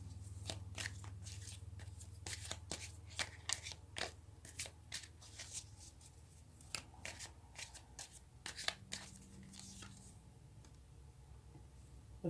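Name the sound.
shuffling tarot cards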